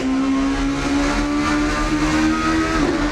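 A car engine in Assetto Corsa drones steadily and loudly while driving, holding a sustained tone with a slight rise in pitch near the end and no talking.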